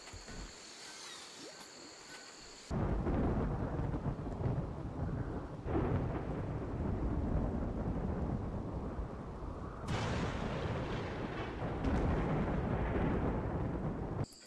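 Heavy thunderstorm in the video game Rimworld: dense, continuous rain roars with deep rolling thunder, quieter for the first few seconds, then a loud steady downpour with surging rumbles, no voices.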